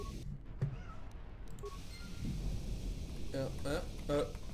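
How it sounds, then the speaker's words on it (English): A cat meows a couple of times, faint and somewhat distant, against a low rumbling background while a person talks. "My cat is meowing."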